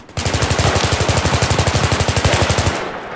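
Rapid automatic gunfire in the video game Battlefield 3, a loud close burst of evenly spaced shots lasting over two seconds before cutting off into a short tail.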